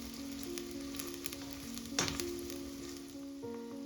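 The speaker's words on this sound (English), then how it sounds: "We are just going to saute it until it's translucent." Onions sautéing in oil in a pan until translucent, a steady soft sizzle running throughout with a brief louder burst near the middle, alongside a faint tonal hum.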